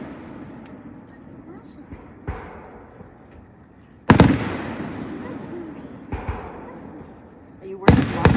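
Fireworks exploding at night: several booming bursts a couple of seconds apart, each with a sharp crack and a rumbling decay, heard over a steady crowd murmur while people chat nearby.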